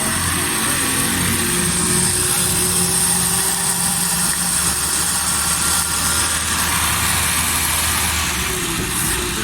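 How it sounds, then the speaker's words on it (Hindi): A Suzuki Alto Cultus engine runs steadily after starting, its carburetor in the middle of fuel-system repair, giving a loud, even, continuous hum with a high whine that holds unbroken throughout. "ये माशाल्लाह गाड़ी स्टार्ट है, बिल्कुल स्टिल स्मूथ ज़बरदस्त साउंड है"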